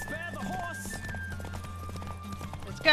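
Horse hooves clip-clopping at a run in The Witcher 3, as Geralt rides Roach in a race, a steady galloping beat under game music with a loud burst at the very end.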